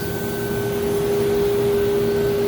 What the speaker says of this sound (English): Bring my Leister up into position, drop the tester set, and begin the heat welding process.